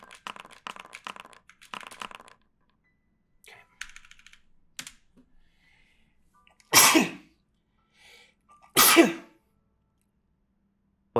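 Two sharp, loud sneezes a couple of seconds apart, preceded by light keyboard typing and a few soft clicks, with quiet gaps between.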